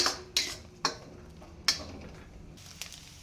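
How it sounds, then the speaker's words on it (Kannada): A spoon strikes and scrapes a pan as egg rice masala is mixed and fried, giving several distinct clanks at uneven intervals over a faint background sizzle. "ಇವಾಗ ನಾವು ಮತ್ತೆ ಎಲ್ಲವನ್ನು ಮಿಕ್ಸ್ ಮಾಡಿಕೊಂಡು ಫ್ರೈ ಮಾಡ್ಕೊಬೇಕು."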